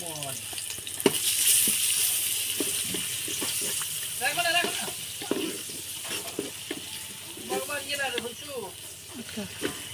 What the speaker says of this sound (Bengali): লবণ পেঁয়াজ এগুলোকে একটু ভালোভাবে ভেজে নিব